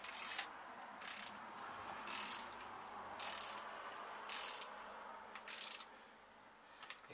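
Torque wrench set to 35 ft-lb clicking through repeated ratcheting strokes while tightening bolts on a Classic Mini 1310cc engine during Omega piston installation, six bright bursts in a steady rhythm, close and alone.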